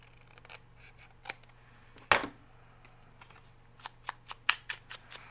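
Scissors snip through a canvas journal cover, one sharp loud cut followed by a quick run of crisp snips, close and alone in a quiet room.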